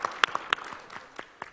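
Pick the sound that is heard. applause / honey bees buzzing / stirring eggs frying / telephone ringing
applause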